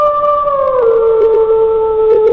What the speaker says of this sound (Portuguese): ele ouviu um uivo longo e profundo